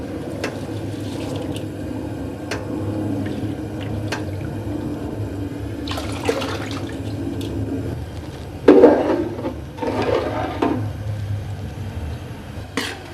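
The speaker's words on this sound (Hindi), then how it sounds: "इसमें बबल हल्के हल्के बनना शुरू हो गए हैं" Salted water with rice boiling in a pot on a stove, a steady low bubbling hiss throughout with occasional clinks and a louder burst of bubbling near the end.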